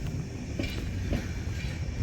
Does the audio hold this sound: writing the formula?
no